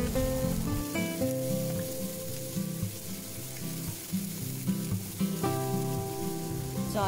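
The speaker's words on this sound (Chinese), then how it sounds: "再倒埋啲陈村粉落去一齐炒" Chan Chuen rice noodles and bean sprouts stir-fried with XO sauce over high heat, a steady close sizzle with rhythmic scraping and tossing throughout, no talk.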